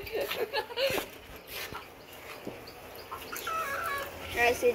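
A chicken that has wandered indoors clucks in short, scattered bursts close by, over a faint background rustle and murmur.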